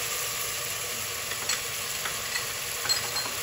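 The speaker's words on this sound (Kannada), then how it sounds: "ಟೊಮ್ಯಾಟೊ ಹಾಕ್ಬಿಟ್ಟು ಚೆನ್ನಾಗಿ ಹಿಂಗೆ ತಿರುಗಿಸ್ತಾ ಇರಬೇಕು." Tomatoes sizzle steadily in a hot pan for a curry, with a continuous frying hiss and a few soft scraping stirs close by, no voices.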